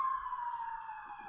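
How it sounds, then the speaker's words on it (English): A siren sounds outside, a faint, distant, steady wailing tone that holds throughout with no talk over it. "Shout out to the sirens."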